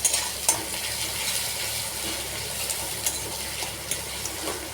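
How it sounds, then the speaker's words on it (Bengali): Onions frying in a pan, a steady close sizzle with occasional spatula stirs and scrapes, moderately loud with no voices. "পেঁয়াজটা একটু লাল লাল করে ভাজা হলে তারপরেই আমি দেব রসুন"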